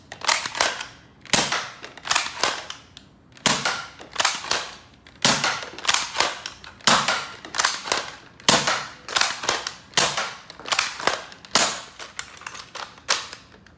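An Xshot Xcess toy blaster fires in rapid bursts of sharp, snappy cracks, dozens of shots in quick clustered groups with short pauses between, loud and close with no talking.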